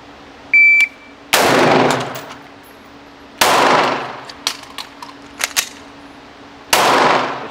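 Pistol gunshots during a timed center-mass shooting drill, loud sharp reports with long ringing decays outdoors, several rapid shots in bursts after a timer beep.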